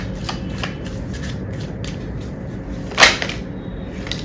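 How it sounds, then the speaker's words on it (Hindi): Tarot cards shuffled and drawn: soft riffling and papery slides in quick bursts over a steady background hiss, with one sharper snap of a card near the end, no talking. "एक और कार्ड लेते हैं।"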